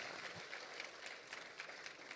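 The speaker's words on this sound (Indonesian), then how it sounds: "Ayo tepuk tangan buat Tuhan Yesus kita." Faint, steady applause from a church congregation at an online worship service, a soft continuous wash of many hands clapping with no voice over it.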